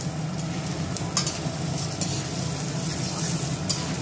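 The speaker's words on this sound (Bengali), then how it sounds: "এইবার চালটা ঢেলে দাও।" Rice is poured into a pan of hot oil with ground coriander and cumin and stirred, giving a steady close sizzle with soft scraping and grainy rustles throughout.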